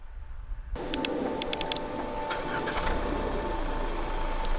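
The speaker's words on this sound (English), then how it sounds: "you're probably wondering what that 2-liter EcoBoost sounds like, so let's give it a cold start" A 2018 Ford Edge with a 2.0-liter EcoBoost engine starts from cold: a sudden crank and catch, then a steady, moderately loud idle hum with faint ticking and whirring on top.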